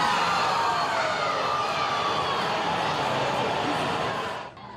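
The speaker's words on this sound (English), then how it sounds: "Groans filled Art Alley as Canada fell to Morocco 3-0" Dozens of soccer fans packed into Windsor's Art Alley let out a sustained, dense crowd groan and murmur as Canada falls 3-0 to Morocco in a World Cup round of 16 match, the noise steady before dropping off abruptly at the end.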